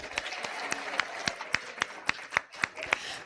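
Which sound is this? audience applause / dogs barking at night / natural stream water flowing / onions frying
audience applause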